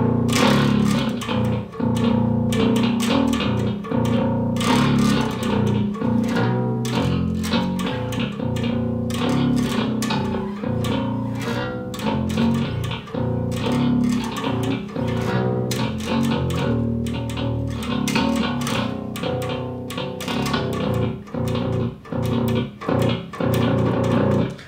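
Heavily distorted electric guitar played on the neck pickup through a Neural DSP Darkglass Ultra plugin with the boost off, a dense, loud, continuous chugging riff with punchy rhythmic attacks throughout.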